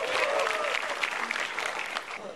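Audience applause at a televised stand-up comedy battle, a dense wash of clapping from a studio crowd, steady and fairly loud, tapering off at the end with some voices beneath.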